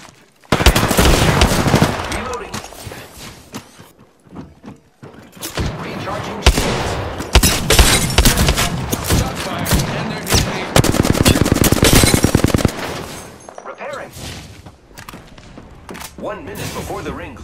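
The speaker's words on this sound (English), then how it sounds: "The enemies are shooting at me." Enemy gunfire in a video game, a duo match, comes as dense automatic bursts and heavy thudding shots that pause briefly and then resume, loud and close almost throughout.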